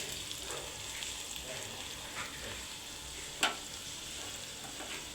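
Carrots sizzle steadily in a pan as they fry, a continuous close crackle with one sharper clink of a utensil partway through and faint stirring scrapes.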